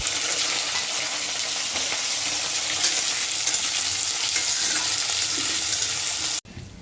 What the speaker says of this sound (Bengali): আগে আলুটা ভেজে নেব হালকা, আলুটা হালকা ভেজে নিই